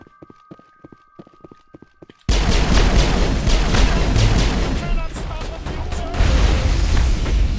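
Explosions in the video game Mass Effect during a facility mission: sharp rhythmic clicks give way to a sudden loud, sustained roar of blasts and rumbling booms that swells again near the end.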